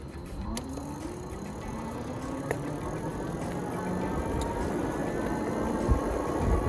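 Heybike Horizon folding full-suspension e-bike accelerating on throttle alone across flat ground, a steady motor whine rising in pitch over constant wind and tire rumble, close and continuous.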